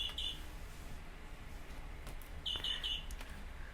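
Small birds chirping outdoors in two short, fairly faint bursts of rapid high tweets over steady background hiss.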